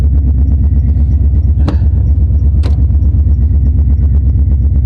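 A car engine idles steadily while warming up, a low pulsing rumble running evenly throughout with a couple of brief higher clicks, no talking.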